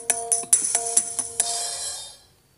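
Organ tunggal keyboard voice from an Android keyboard app, a bright synthetic organ playing a quick run of about eight staccato notes before a sustained tone fades out, close and clear with no talk.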